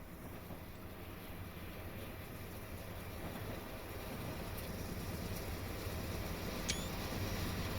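A Union Pacific gas turbine electric locomotive hauls a train past at a distance, giving a steady low rumble that builds slowly and grows a little louder toward the end, with a brief high squeal near the close.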